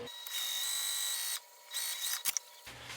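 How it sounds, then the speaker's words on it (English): A sewing machine stitches across the top of a slip pocket on a tote bag, with a steady close whirring run that pauses briefly, resumes, then stops with a few clicks. "I'm going to backstitch when I start and stop and just sew across the top of this slip pocket."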